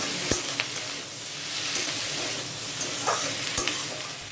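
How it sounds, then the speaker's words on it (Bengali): Garlic, onion, capsicum, green chilli and tomato are stir-fried in oil in a close, continuous sizzle, with sharp spatula scrapes and clicks against the pan at irregular moments. "এবার সবজিগুলোকে ভালো করে ভাজতে হবে।"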